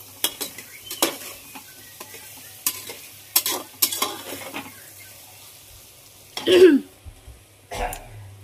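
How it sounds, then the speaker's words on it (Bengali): Spices and vegetables are stirred and fried in a pan for Bengali vegetable khichuri, giving a steady sizzle broken by scraping spatula strokes and clinks, with a short throat-clearing sound near the end. "এবার মশলাগুলো একটু নেড়ে নেব 1 মিনিট মতো"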